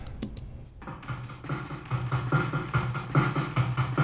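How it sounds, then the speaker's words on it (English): Drums run through heavy distortion and echo, with crunchy repeating hits that smear into a dense, trailing wash after a brief quiet start. "So you can hear the distortion and the delay on the drums."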